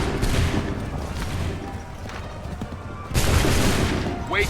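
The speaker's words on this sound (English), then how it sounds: "Open fire!" A musket volley in Assassin's Creed III, a dense crackling burst of many shots that tails into battle noise, then a second loud crash of fire near the end, with shouted voices mixed in.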